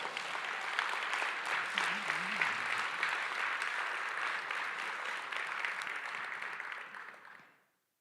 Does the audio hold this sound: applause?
yes